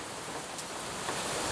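Steady rain falling outdoors near a potted pothos being repotted, a soft even hiss of drops throughout the short stretch, no voices.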